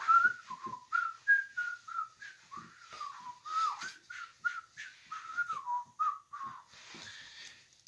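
A person whistles a wandering, bird-like melody of short rising and falling notes, steady and fairly close, with no talking.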